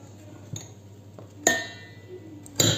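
Raisin cake batter with flour and baking powder mixed in a bowl, a few sharp clinks and scrapes of the utensil against the sides, close and otherwise quiet.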